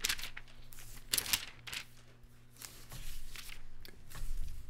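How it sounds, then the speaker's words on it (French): Pages of a paper Bible are turned by hand, a few close, crisp rustling flips and paper swishes spaced irregularly over a faint steady hum. "ce soir, je dois tourner dans la Bible en papier"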